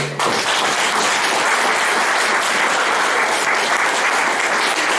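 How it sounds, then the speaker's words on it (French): A congregation at a church service applauds the children, steady dense clapping filling the room without a break for several seconds, close and loud, with no clear speech over it. "on veut applaudir encore les enfants."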